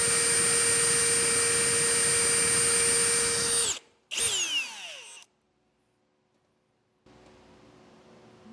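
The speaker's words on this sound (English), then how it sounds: "we're drilling right into a wooden stud instead" A power drill with a hole saw whines loudly at a steady pitch while cutting into a wooden stud, then spins down and stops, leaving near silence and faint room noise.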